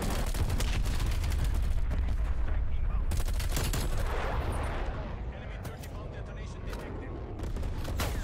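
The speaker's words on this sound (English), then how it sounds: "Can you stop sniping me? Please stop shooting me!" Bursts of gunfire and sniper shots in the Black Ops Cold War video game, dense overlapping shots with sharp cracks through the first half, thinning to scattered reports against a steady background of game noise.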